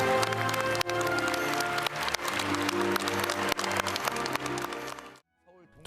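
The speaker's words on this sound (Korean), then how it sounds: "큰 박수 부탁드립니다." Audience at a national Liberation Day ceremony applauding a posthumous presidential award, sustained dense clapping for about five seconds that cuts off abruptly into near silence.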